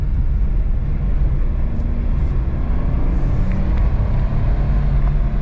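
A 1990 Mitsubishi Bravo kei van accelerates in second gear, heard from inside as a loud, continuous engine and road rumble that stays even throughout.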